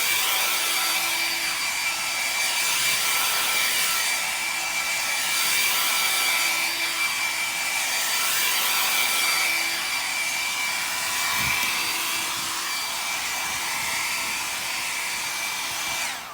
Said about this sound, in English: I'm going to give it a bit of a dry with a hairdryer before I take the tape off